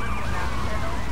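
A loud, wailing police car siren in GTA Vice City sweeps up and down continuously, close by, over a low engine rumble.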